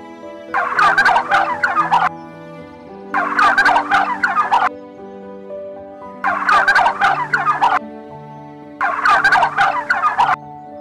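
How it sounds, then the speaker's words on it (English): A turkey gobbles in four loud rattling bursts at steady intervals, each about a second and a half long, close by, with a soft musical backing between calls. "It's a turkey bird."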